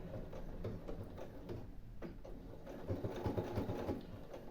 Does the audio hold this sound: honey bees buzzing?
no